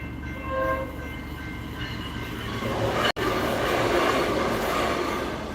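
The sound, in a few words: train passing with horn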